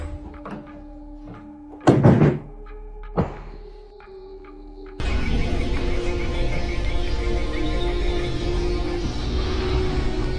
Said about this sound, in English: Just opened the door to the basement.